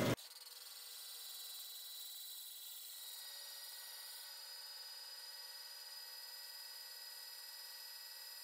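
A drill chuck grinds against aluminum while holes are drilled for a bench grinder stand, giving a steady, harsh, high-pitched scraping whine that drones on without a break.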